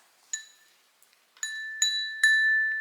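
A glass item, dirty with candle soot, is tapped four times, each strike giving a clear, bright ring that sustains and fades, the last three coming in quick succession with no voices.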